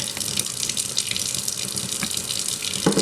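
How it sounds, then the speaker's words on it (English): Warm water running from a bathroom tap while makeup brushes are washed with shampoo, a steady close splashing gush with brief brush and hand sounds breaking into the stream. "have the water running a little bit. Make sure that it's warm"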